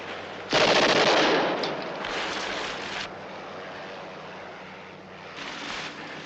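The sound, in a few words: automatic weapon gunfire in a 1964 movie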